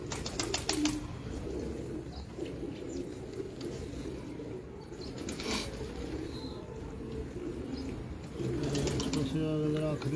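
Pigeons coo softly amid running water and background chatter, with scattered bird calls and bursts of clatter.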